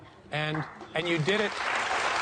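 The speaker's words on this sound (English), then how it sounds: "They're clapping" Audience clapping starts up behind someone speaking briefly, then swells into a steady spread of applause that continues on its own for over a second.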